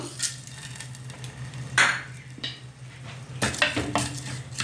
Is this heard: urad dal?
yes